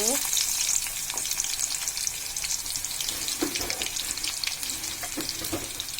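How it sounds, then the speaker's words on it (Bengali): Onions fry in a pan with a steady, moderately loud sizzle and crackle, accompanied by occasional stirring scrapes, with no talking. "পেঁয়াজটা কষানো হয়ে গেছে"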